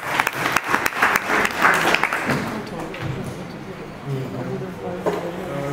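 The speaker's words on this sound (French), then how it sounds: "Applaudissez." An audience at a youth leadership and entrepreneurship training bursts into brisk, sharp applause that fades after about two seconds, giving way to talking and quieter room sounds.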